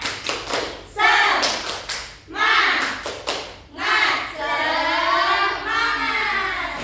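Schoolchildren in a fifth-grade classroom perform the rhythmic 'tepuk semangat' clapping chant, sharp patterned claps in quick bursts alternating with shouted, sung chant phrases from the group.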